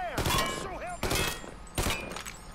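Gunfire in the video game Mafia 3, three loud close bursts of shots roughly a second apart with ringing tails.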